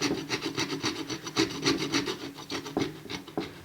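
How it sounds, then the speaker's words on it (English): An old plastic card scrapes softened powder coating off a part for a Honda CG125 cafe racer motorcycle. The scraping comes in quick, rhythmic rasping strokes, close and fairly loud, with no talking. "I'm just using an old plastic card now to try and get this off"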